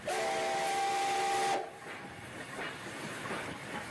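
A steam train on the Steppes railway sounds a loud, steady whistle for about a second and a half, then the whistle cuts off and a quieter rolling, rhythmic rumble of the train continues.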